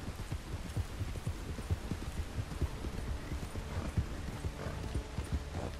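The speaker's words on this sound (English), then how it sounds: "Me and my horse, Morty." A horse's hooves clip-clop in a steady galloping rhythm through the Red Dead Redemption 2 game world, close and continuous for several seconds with no talking over it.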